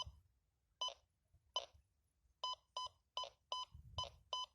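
A metal detector sounds its signal in a field as a series of sharp electronic beeps, two spaced tones followed by a quicker run of repeated beeps, clear against a quiet background with faint handling noise.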